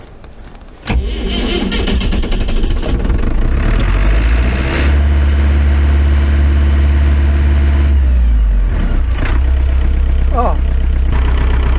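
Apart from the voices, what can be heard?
snowblower engine idling and warming up in the cold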